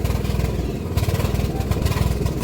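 A tractor engine on a hillside rice farm in Himachal, running with a rapid, rough chugging rhythm and clatter that sputters and falters as it stalls, fairly loud and close.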